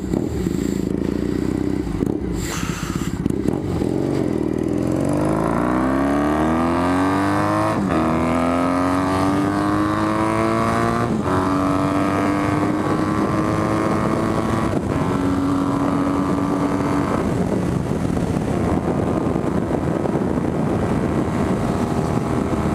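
A Triumph T100 Black, a custom parallel-twin motorcycle, revs up through its gears and pulls away while being ridden. The engine note climbs and holds steady, loud and close throughout, with wind noise and no talking.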